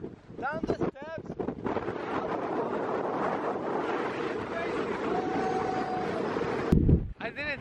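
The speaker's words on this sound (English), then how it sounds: "I didn't think the wind was gonna be this crazy today" Strong wind on the Twin Peaks hiking trail in San Francisco buffets the microphone in a loud, continuous rushing roar, with brief voices breaking through near the start and end.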